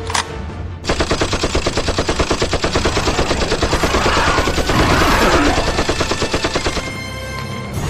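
Sustained rapid automatic gunfire from a Jurassic World dinosaur battle film, loud and continuous bursts for most of the stretch after a short quiet opening, fading slightly near the end.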